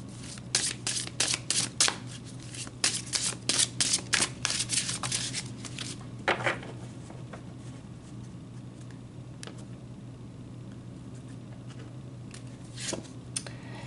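Tarot cards shuffled by hand with a rapid run of crisp riffling, snapping taps for several seconds, then quieter, sparse flicks and soft slides as single cards are drawn over a steady low hum.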